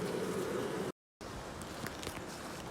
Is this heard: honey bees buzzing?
yes